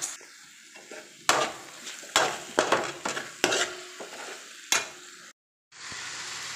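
Boiled chicken dropped into a chilli-spiced gravy sizzles steadily in the pan, broken by several loud clanks and scrapes of a stirring spoon, then a short silence before the frying resumes.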